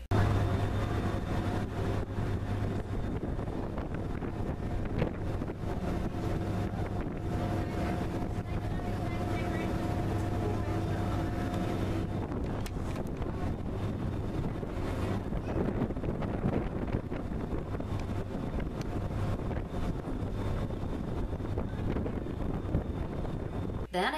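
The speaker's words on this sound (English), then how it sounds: "Took the ferry from Bridgeport to Port Jefferson," Steady engine drone and wind buffeting on a passenger ferry crossing Long Island Sound from Bridgeport to Port Jefferson, a constant low hum with rushing air across the whole stretch.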